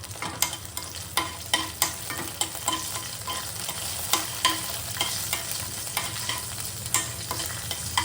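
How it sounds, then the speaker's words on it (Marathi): Garlic and green chillies roasting in oil in a pan for matar kachori filling, steady sizzle broken by rhythmic spatula stirring strokes, close with no voices. "हे जे आपण लसूण आणि हिरवी मिरची घेतली ती, हे आता आपल्याला थोडंसं रोस्ट करून घ्यायचं"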